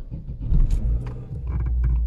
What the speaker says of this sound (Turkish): Ondan sonra arabayı çalıştıralım bakalım.